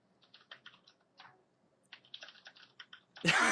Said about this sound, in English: You can hear everybody typing.